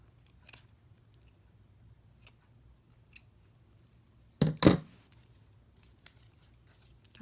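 Paper being trimmed with scissors for a junk journal: a couple of close, crisp snips in quick succession midway, with a few faint clicks and light handling noises scattered around in a quiet room.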